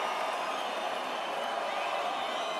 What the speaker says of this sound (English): Vasyl, you hear the crowd, the respect they have for the effort